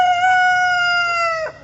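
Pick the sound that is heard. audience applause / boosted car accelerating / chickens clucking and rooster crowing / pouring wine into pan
chickens clucking and rooster crowing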